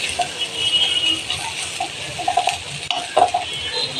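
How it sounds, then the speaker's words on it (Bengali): Onions fry in a pan with a soft, continuous sizzle, stirred now and then, with a few light utensil clinks and scrapes near the end and no talking. "পেঁয়াজটা যখন একটু ভাজা ভাজা হয়ে গেছে বন্ধুরা"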